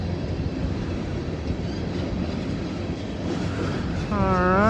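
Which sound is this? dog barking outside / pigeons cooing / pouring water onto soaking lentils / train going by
train going by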